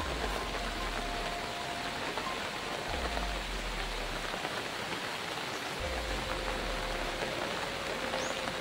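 Steady rain pouring down over a flooded neighborhood, a continuous broad hiss of drops with a faint low rumble pulsing underneath at intervals; no one speaks.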